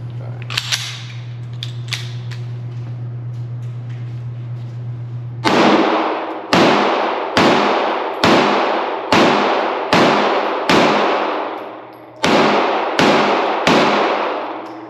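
A SIG P365 XL pistol fitted with a Wilson Combat grip fires about ten sharp, loud shots in a quick, fairly even string with one short pause, each crack ringing briefly. The shots come after a stretch of steady background hum.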